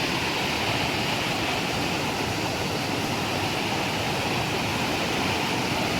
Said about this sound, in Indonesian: ini tadi aliran pancuran kita tadi